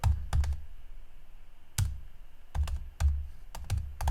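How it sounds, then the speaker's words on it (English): Keys on a computer keyboard being struck in short irregular bursts separated by pauses, each keystroke a close, sharp click with a dull low thump, no voices. "I'm gonna type"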